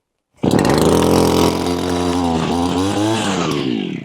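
A petrol brush cutter engine catches after a short silence, then runs loud and close with a buzzy two-stroke drone that holds steady, dips slightly and settles into an even idle.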